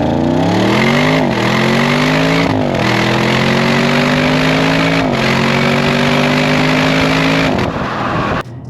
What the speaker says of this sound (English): you hear that V8 engine snarling in front of you